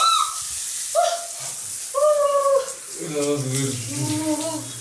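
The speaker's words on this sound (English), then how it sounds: "Shower time! Shower time. Let's do this." A shower runs in a bathroom in Pushkar, India, with a constant hissing spray of water and some tonal whining in the plumbing.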